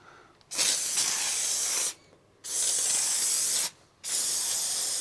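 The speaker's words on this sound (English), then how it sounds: "So we've now cleaned the gun and we're going to spray these pieces up." A spray gun hissing in three long bursts with short pauses between, a loud steady airy spray close by, coating Range Rover Classic centre console pieces.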